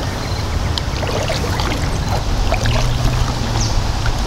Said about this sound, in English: I won't be fishing, but I'm doing the kayaking bit.